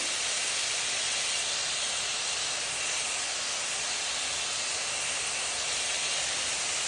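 Grated cabbage sautéing in oil with salt gives a loud, unbroken hiss of frying that holds level for several seconds, with no talk over it.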